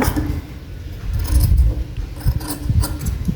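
A sewing machine stitches a round-belt blouse, its mechanism whirring and clattering in uneven rapid bursts, close and loud, with small ratcheting clicks between runs and no voices.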